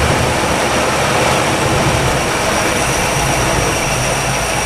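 A 1962 Chevy engine runs after sitting parked for 35 years, a loud, steady, dense roar close by that holds level throughout with no pauses.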